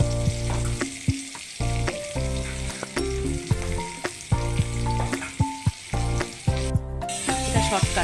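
Potato and papaya pieces frying together in oil tempered with whole spices, a steady loud sizzle with crackling bursts and occasional stirring scrapes, close up with no talking.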